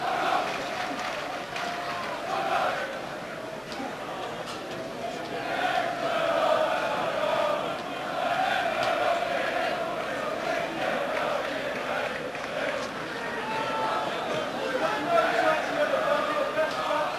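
A near-capacity football crowd at a Plymouth Argyle v Derby County match in 1998/99, a steady roar and murmur of massed supporters with swelling surges, and possible commentary beneath.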